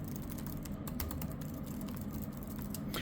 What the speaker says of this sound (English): Let's just type again.